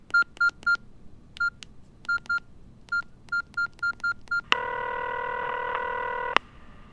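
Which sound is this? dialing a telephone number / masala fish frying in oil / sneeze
dialing a telephone number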